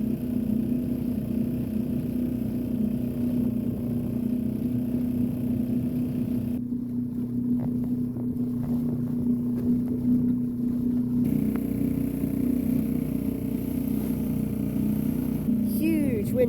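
Outboard engine of a 5-metre sailing dinghy droning steadily while motoring at sea near Roughs Tower, a loud constant hum with wind and water noise throughout, and someone speaking over it.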